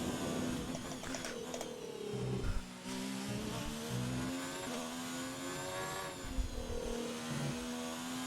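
A race car engine in the F1 2019 racing game at Melbourne drones continuously with a steady high-pitched whine, rising and falling slightly as revs shift, loud and close throughout.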